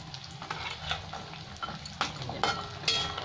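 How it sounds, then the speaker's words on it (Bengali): Bori lentil dumplings frying in oil for a Bengali fish curry, a soft steady sizzle with occasional stirring scrapes and brief clinks, moderately close and fairly quiet, with no one speaking. "লাল লাল করে বড়িগুলো ভেজে নেবো"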